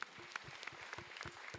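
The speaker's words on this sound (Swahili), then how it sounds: "na simpigie makofi mazuri" A church congregation at a Sunday service clapping, a moderate burst of scattered handclaps heard at a slight distance, with faint voices mixed in.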